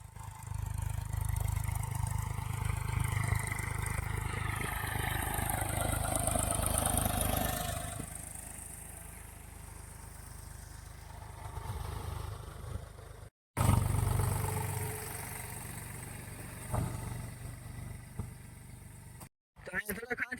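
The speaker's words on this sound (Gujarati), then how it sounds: "હવે આવે છે પાછું ટ્રેક્ટર." A farm tractor engine approaches across a field, a loud continuous low rumble that swells in the first seconds and eases off, with short dropouts along the way and someone speaking over it.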